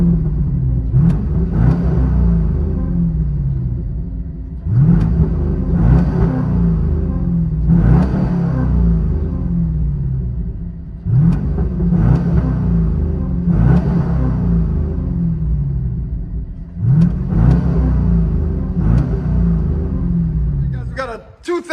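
A 1999 Chevy Corvette 5.7L V8 with H-pipe delete and Borla ATAK exhaust revs repeatedly, each deep, loud rumbling burst rising and falling back to a throaty idle in a steady rhythm, heard from close by.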